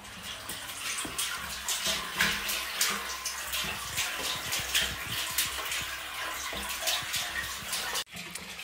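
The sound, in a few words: water from ram pump overflow line flowing into floor drain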